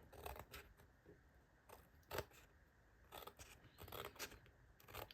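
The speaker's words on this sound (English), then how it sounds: "I'm going to cut this off." Paper from a card kit is cut with scissors in a repeated run of crisp snips and slicing strokes, close and fairly clear, with no talking.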